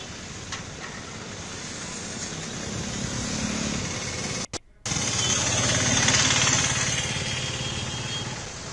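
Steady street traffic with vehicle engines rumbling and passing, shops open and people about, a continuous dense roar with a brief cut partway through.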